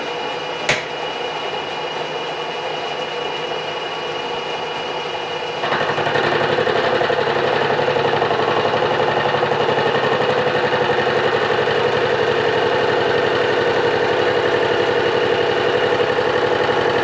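Metal machining cut taken 50 thousandths deep on a bending brake base, a steady dense mechanical grinding whir that starts softer and steps up louder partway through, then runs continuously without talk.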